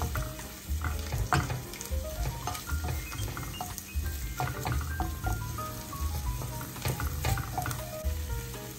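Stirring pepper into a mixture frying in a pan: a steady close sizzle with scraping and clinking of the utensil throughout, and no talking.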